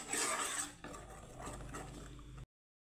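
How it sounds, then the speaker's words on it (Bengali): A spoon scrapes and clinks against a pan as milk is stirred continuously over a low gas flame for kalakand. The close, soft metallic scraping carries on steadily and ends abruptly. "অনবরত এইভাবে নাড়াতে হবে, একদম গ্যাসের ফ্লেমটাকে লো করে, যাতে নিচে না লেগে যায়।"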